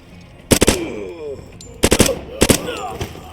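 Video game gunfire in three quick bursts of loud, close shots with short gaps between, a voice speaking briefly around them.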